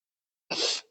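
A single short, breathy burst from a person with a cold, harsh and forceful, lasting under half a second and standing alone after silence, closer to a sneeze or cough than to speech.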